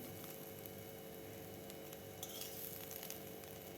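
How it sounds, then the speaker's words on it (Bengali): Pointed gourd (potol) peels frying in a pan, a faint steady sizzle with light stirring clinks, quiet and close, no talking. "দেখুন কত সুন্দর ভাজা হচ্ছে।"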